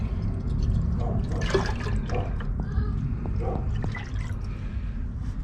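Liquid pours and splashes steadily into a container, dripping and trickling, while copper is added to a solution to drop out gold recovered from purple ceramic CPUs.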